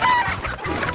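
Chickens cluck and squawk in the Breath of Fire 3 video game, a rapid run of loud, close game-sound clucks filling the whole second with a brief crow-like call at the start.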